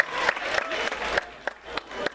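Scattered, uneven clapping from an audience cheering on children performing at a Gascon folk event in Nogaro, with a few sharper claps standing out over a thin crowd murmur.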